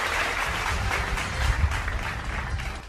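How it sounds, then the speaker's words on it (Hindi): Audience applause welcoming a minister at a staged event, a dense, moderately loud wash of clapping from a crowd that holds steady for about three seconds. "आप लोग इनका जोरदार तालियों के साथ में स्वागत करेंगे।"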